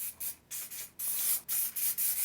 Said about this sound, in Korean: 머리를 엄지검지로 잡아서 들고 가스형 스프레이를 안쪽에다가